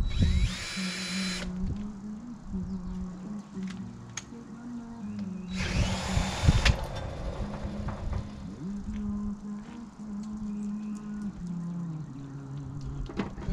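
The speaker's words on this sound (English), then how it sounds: "we can spin off the drill" A power drill spins a transmission bolt on a 4x4 truck, heard as two short high whirring bursts over a low steady background hum.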